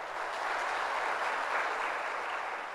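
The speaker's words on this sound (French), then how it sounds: "sous vos applaudissements, s'il vous plaît" Steady audience applause for a professor being introduced at a ceremony, dense and continuous at an even level throughout, with no voices standing out.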